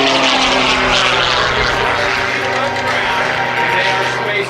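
A stunt airplane roars loudly and steadily as it flies low over the runway at an airshow, passing just above the ground beneath ribbons strung between poles. The propeller engine drone is continuous and close throughout.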